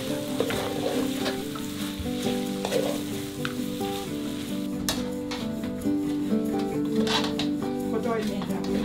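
A walnut and onion mix sizzles loudly alongside butternut squash in a hot pan, with steady frying crackle and occasional stirring scrapes, up close and continuous.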